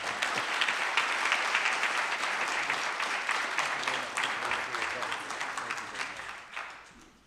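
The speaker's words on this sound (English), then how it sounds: "I do believe the applause was for the line, Reverend, that you said, the last speaker" An audience at a community gathering against hate claps in sustained applause for several seconds, dense and even, then fades toward the end.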